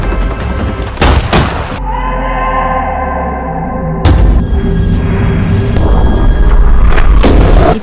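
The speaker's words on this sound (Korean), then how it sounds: "이때 무력화된 경찰을 죽이는 총성이 들립니다" Gunfire kills incapacitated police during a bank heist in the sci-fi film Code 8: heavy booming shots and crashes open the scene, a low droning rumble follows, then more loud bursts of gunfire and impacts.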